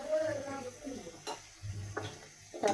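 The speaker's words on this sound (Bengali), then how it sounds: "তারপরে এগুলোকে নেড়ে চেড়ে দিব।" Pangas and hilsa fish stirred with turmeric and salt in a pan give a soft sizzle with several distinct clinks and scrapes of a utensil against the pan, with brief talk.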